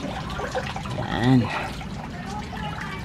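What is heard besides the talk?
collected water poured out of blue agave plant leaves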